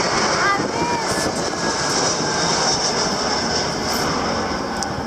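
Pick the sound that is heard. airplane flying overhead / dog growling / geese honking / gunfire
airplane flying overhead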